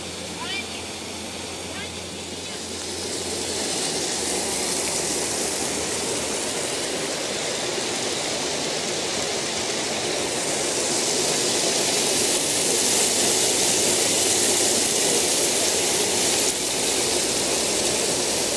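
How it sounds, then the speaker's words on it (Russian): A powerful waterfall roars in a continuous broadband rush beneath a bridge on a river, loud and steady throughout, rising slightly in intensity toward the end. "Напор воды такой мощный, что мост дрожит."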